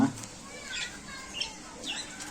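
A blue budgie held in a hand gives short squawks and chirps while its wings flap and rustle. The sounds are close by and fairly faint, over a soft background hiss.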